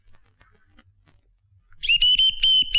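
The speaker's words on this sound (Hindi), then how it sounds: "इसकी तो सीटी बच गई है।" A comedic whistle sound effect in a Hindi comedy film, a sharp, loud, shrill tone that starts abruptly partway through after faint background murmur and wavers in short pulses to the end.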